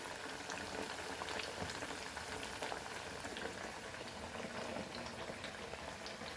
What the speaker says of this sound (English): It takes time to fry it nicely.